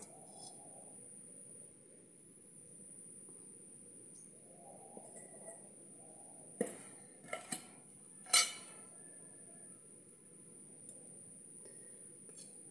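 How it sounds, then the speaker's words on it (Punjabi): A kadhai is set on the stove in a village kitchen, with a few brief pot clatters in quick succession, fairly near but soft, over a faint steady background hum. "ਹੁਣ ਆਪਾਂ ਕੜਾਹੀ ਧਰਦੇ ਹਾਂ,"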